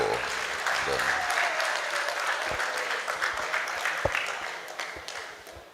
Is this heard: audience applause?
yes